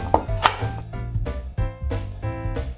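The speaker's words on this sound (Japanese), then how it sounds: "人参はね、このようにね、薄切りにしましょう。" A knife thinly slices a peeled carrot on a cutting board, each rapid close tap against the board landing in an uneven rhythm over several quick strokes.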